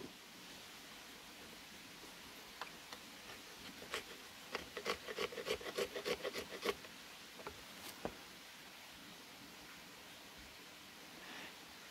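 A knife scrapes a ferrocerium rod over hardwood in a quick run of short, faint rasping strokes, with a few isolated scrapes before and after against a quiet outdoor hiss.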